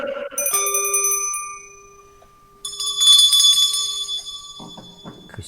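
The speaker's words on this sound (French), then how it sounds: "cette clochette là que j'entends?" A small bell rings clearly twice with bright, sustained ringing tones, the second strike louder and decaying slowly, with faint voices in the background toward the end.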